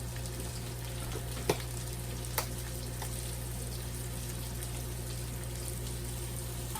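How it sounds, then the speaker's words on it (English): Onions frying and beginning to caramelize in a pan for Salisbury steak: a faint, steady sizzle over a low hum, with a couple of soft clicks, no talking. "after getting the onions, they're starting to caramelize"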